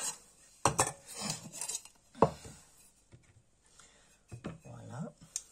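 Vanilla seeds stirred into crème fraîche in a bowl, with a spoon clinking and scraping against the bowl in a few separate bursts, and quiet gaps between them.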